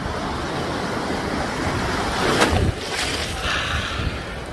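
Steady broadband rush of surf at Tamarindo beach, Costa Rica, with a louder wave breaking midway, continuous wash and wind-like noise throughout, no voices.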